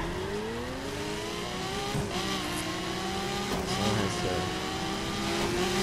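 A slightly beat-up, not fully upgraded Lamborghini Aventador in the racing game The Crew revs and accelerates with rising and falling engine pitch, loud and close, while a voice briefly talks over it.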